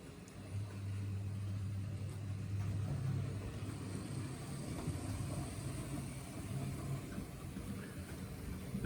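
A Trix Crocodile model electric locomotive of European outline runs in, giving a steady low motor hum that holds at an even level for the whole stretch, with faint rumble and no talking.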